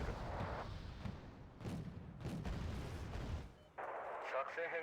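Gunfire and booming artillery from the military strategy game Wargame: Red Dragon, a string of loud blasts and rumbling impacts across the clip with a sharper burst of fire near the end, under game noise.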